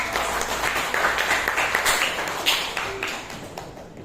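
A classroom gives scattered applause to a presenting student group, a modest patter of claps from a small nearby crowd that swells and fades over a few seconds.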